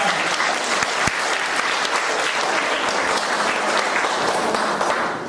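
A church congregation bursts into dense, sustained clapping during a Nepali sermon, loud and even throughout before tailing off at the very end.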